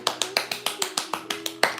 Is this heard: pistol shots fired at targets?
no